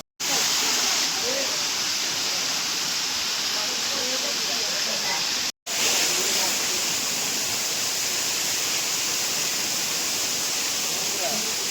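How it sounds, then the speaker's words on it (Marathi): Barki waterfall near Pavankhind pours and rushes as a loud, steady, broadband roar of falling and flowing water, unbroken except for one brief cut partway through. "इथे वरती धबधबा आहे. तिथे मागे दरे आहे आणि पाणी इथून वाहत आहे."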